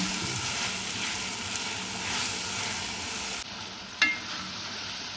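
Hair oil with herbs heats in a pan over a low flame, giving a steady close sizzle and hiss throughout, with a brief sharper crackle or clink near the end and no speech.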